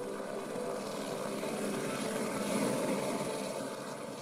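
Helicopter rotor and engine noise holds at a steady, fairly loud level throughout as the craft settles to land, a broad continuous whir with no talk over it.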